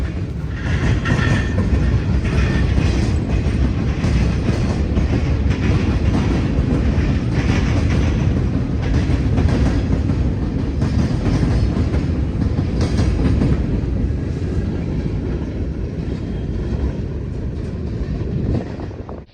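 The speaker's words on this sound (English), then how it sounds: "Manifest trains are what I consider to be the classic lash-up." A manifest freight train passes through the rail park at Cordele, Georgia, with a loud, continuous roar of rolling cars and rhythmic clickety-clack of wheels over rail joints, close by and steady, easing slightly toward the end.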